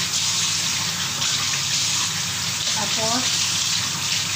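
Tap water runs steadily and loudly while a black chicken is rinsed under it in a kitchen sink; the gushing flow is continuous, and someone speaks briefly over it.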